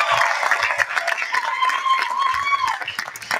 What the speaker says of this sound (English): I want you, class of 25, to give them a roaring round of applause